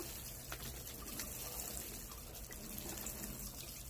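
Water poured steadily over gypsophila seed trays, a continuous close splashing gush with no pauses and no voices.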